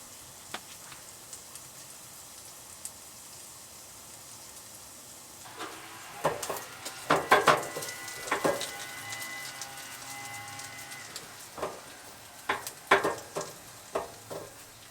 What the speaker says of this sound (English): I started stirring around all the onions and peppers and sausage